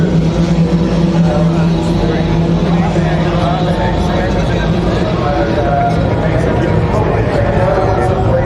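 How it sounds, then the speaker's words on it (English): A rally car engine, parked at a Queensland tarmac rally sprint event, runs steadily at a loud, continuous idle-like rumble beneath constant crowd chatter and nearby voices. "That's the engine."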